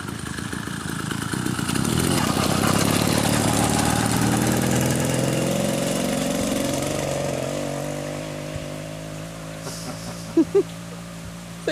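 An 80cc engine on a chain-drive moped runs loud and close, its revs sinking into a steady, throbbing idle, with a couple of sharp clicks near the end.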